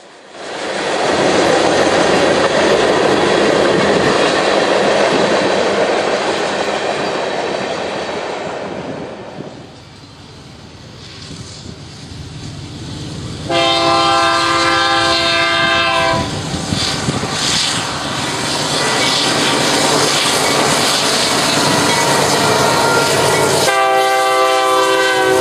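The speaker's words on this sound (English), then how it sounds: "as an eastbound manifest, led by a rebuilt SD40-3, passes the large reservoir on the outskirts of town." A CSX eastbound manifest freight train led by a rebuilt SD40-3 locomotive passes near a large reservoir, its rumble and clattering cars loud and close, with the horn sounding in long blasts mid-pass and again near the end.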